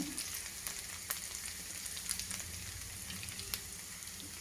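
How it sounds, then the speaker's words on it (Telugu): Dried red chilies torn into hot oil with garlic for a mango pickle, crackling in a bright continuous sizzle with scattered sharp pops close by. "ఒక రెండు ఎండుమిరపకాయలు అట్లా తుంచి వేస్తాను"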